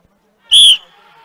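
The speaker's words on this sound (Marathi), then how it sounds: "शिट्टी वाजली जोडी सुटली." A single sharp, piercing whistle blast starts a bullock pair race in a muddy field at a mud ploughing competition. It is loud and close, followed by a lower murmur of background noise.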